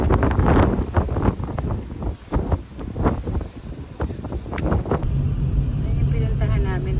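Strong wind gusts outdoors at a tourist spot in Taiwan buffet the microphone with a loud, rumbling roar throughout, while people talk underneath.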